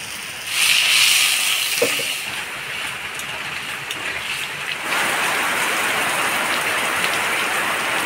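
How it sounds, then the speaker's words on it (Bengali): Evening rain falls outside a home kitchen in a steady, broad hiss, with a louder rushing swell early on and a heavier patter settling in for the rest. "বৃষ্টি শুরু হয়ে গেছে মা।"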